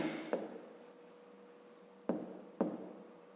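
Handwriting on paper during a 5th-grade maths exercise, soft scratchy pen strokes with a few sharper taps, close and quiet.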